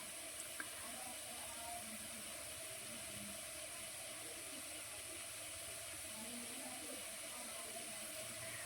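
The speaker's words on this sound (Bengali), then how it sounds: "হালকা জালে আমি পিঠেগুলো ভেজে নিচ্ছি" Palm pitha fritters frying on a low flame, a soft, even hiss of oil that runs steadily without change, faint and continuous.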